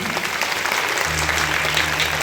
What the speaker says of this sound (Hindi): जोरदार ताली आप लोग बजाइए।